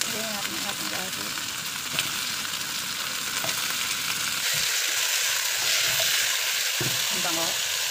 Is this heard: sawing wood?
no